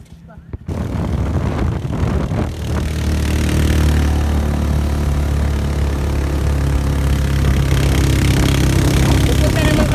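Motorcycle engine idling outdoors, a steady low rumble that holds loud and close for most of the stretch after a brief quiet start, with wind buffeting the microphone and voices talking over it.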